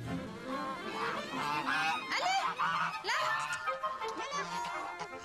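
A flock of geese honks repeatedly at close range, overlapping calls rising and falling for several seconds, with a little human vocal sound mixed in.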